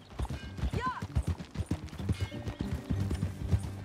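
A young female horse's hooves clop in a steady, close rhythm in the Western video game Red Dead Redemption 2 on PS4, with a brief voice and a horse whinny heard near the start.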